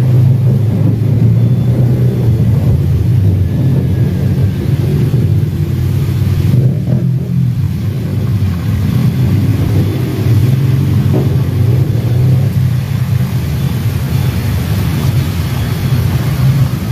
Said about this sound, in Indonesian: Macetnya lumayan parah ya ini hari Minggu sore.